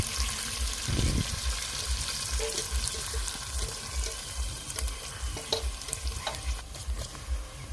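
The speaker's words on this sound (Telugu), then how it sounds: "నూనె వేడయ్యాక ఉల్లిపాయ ముక్కలు, మనం కట్ చేసుకున్న ఉల్లిపొందు, కొత్తిమీర, పచ్చిమిరపకాయలు అన్నీ వేసుకుని ఫ్రై చేసుకోవాలండి" Onions, coriander and green chillies fry in hot oil with a dense continuous sizzle, stirred now and then with soft scrapes, close and fairly loud, in a village kitchen.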